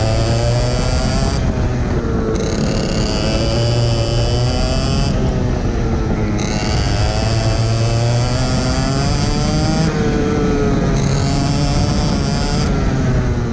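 A race car laps a wet track at a club racing day, its engine droning loud and steady from a close onboard position, pitch rising and dropping through gear changes, with no talking.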